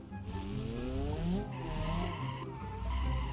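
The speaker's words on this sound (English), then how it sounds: "But when I shift up, I really get into the drift." A car drifting in the BeamNG.drive video game, with an engine drone rising and falling through gear changes while tire squeal and skidding hiss swell in and out over it in a steady, fairly quiet game mix.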